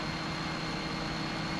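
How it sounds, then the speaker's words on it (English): Race car engine from a Formula sim racing game at Singapore, a steady continuous drone with a low rumble and a constant high whine, loud and unbroken throughout with no voices. "Engine is still alive."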